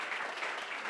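A church congregation claps in a dense, steady burst of applause lasting about a second, fairly close and even in level.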